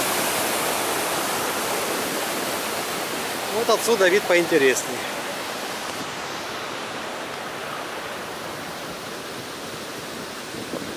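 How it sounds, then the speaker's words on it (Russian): Laxapana waterfall in Maskeliya, Sri Lanka, roars as a dense, steady broadband rush of falling water, loud and continuous throughout, with a voice speaking briefly over it near the middle. "Продолжаем снимать этот же водопад Лаксапанна."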